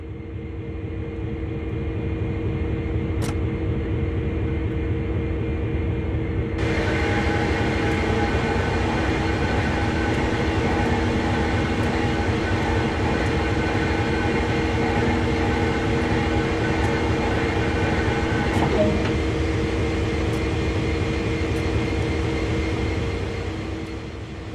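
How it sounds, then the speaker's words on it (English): In Train Sim World, a locomotive sits on a rotating turntable, giving a steady low rumbling drone with a whine and hum that rises partway through and holds, with no talking. "Using the rotation control, turn the table and locomotive to the indicated track."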